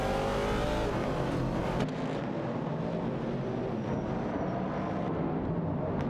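Video game race with a Ford Falcon and a Dodge Challenger battling for 25th place: engines roar steadily and loudly with layered revving and passing cars, a continuous dense motor wash without speech.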